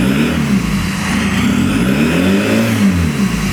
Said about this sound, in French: Tu entends le turbo siffler faire.